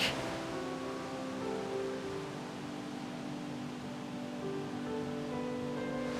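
A forest brook babbles in a soft, continuous wash of water that stays faint and even throughout, with no other sounds standing out.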